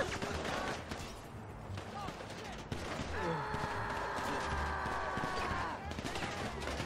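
Gunfire during a bank heist in GTA V, with dense shots and bursts across the clip, loud and steady, mixed under a voice talking.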